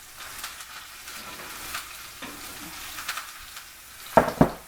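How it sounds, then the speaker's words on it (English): Pork loin sizzles in a pan in a home kitchen, a soft, steady frying hiss in the background, with two sharp clinks of a dish or utensil near the end. "You hear my pork loin sizzling in the background?"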